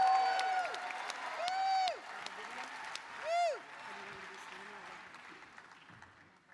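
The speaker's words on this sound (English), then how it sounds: "Another round of applause for Uzo." Audience applause at a DNC Women's Caucus convention meeting in Chicago, a steady wash of clapping running under music and stage sound for several seconds before gradually fading.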